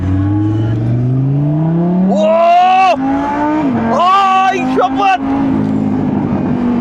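A Lamborghini engine revs up in a rising whine, then climbs through repeated sharp throttle blips and held high notes, loud and close, with a voice exclaiming over it.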